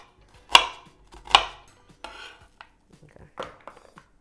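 A knife chopping yellow onion and other vegetables on a board for Jamaican brown stew chicken, a few sharp, separate thuds spaced irregularly, close and crisp, with quieter taps between.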